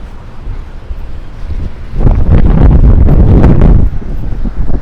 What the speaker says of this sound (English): It's like super windy and you hear that?